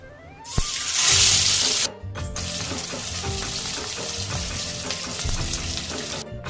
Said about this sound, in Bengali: কড়াইয়ের তেলটা গরম হয়ে গেছে, এবার আমি একটা একটা করে মাছ দিয়ে দেব